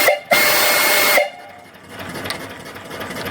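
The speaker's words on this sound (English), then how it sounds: "And the whistle. Turn down your volume." A steam whistle on a small steam boiler and engine setup gives one loud, piercing blast lasting about a second, with a hissing rush of steam. Quieter mechanical hiss and murmur from the engine follow, with no talking.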